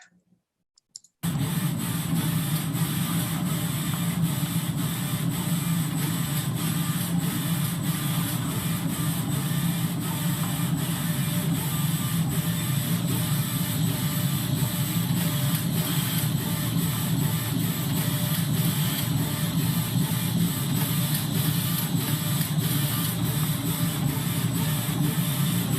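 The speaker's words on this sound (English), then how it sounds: "let me play the video how the actual whole garment knitting machine" A whole garment knitting machine with four knitting beds running, after a brief quiet start, a dense steady mechanical clatter of rapid clicking and whirring that continues unchanged for over twenty seconds, with no voices.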